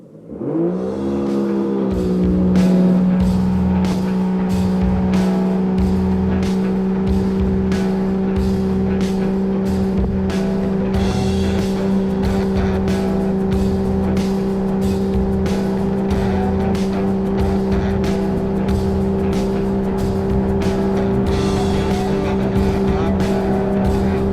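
A 2025 Yamaha JetBlaster personal watercraft accelerates hard from a standstill, its engine rising into a loud, sustained droning whine that holds near and steady, with rhythmic slaps of water against the hull throughout.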